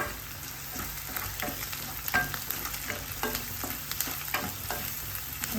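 Garlic cloves sizzle steadily in a pan of frying onion for an okra curry, a continuous crackle with scattered louder pops and occasional scrapes of stirring, close and alone.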